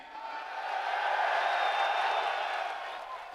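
A crowd at a live UFC 314 press conference in Miami gives an ovation, a broad wash of cheering and clapping that swells and then fades over a few seconds.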